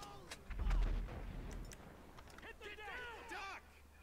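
Gunfire in Grand Theft Auto 5 free roam: a heavy boom hits early and a few sharper shots follow, while people talk over the action throughout.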